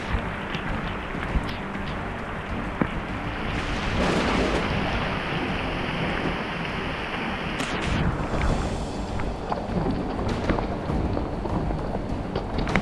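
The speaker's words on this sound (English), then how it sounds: "It is completely downpouring right now." A heavy thunderstorm downpour on a backpacking trail makes a loud, dense, continuous hiss of rain close by, swelling in the middle and easing slightly toward the end.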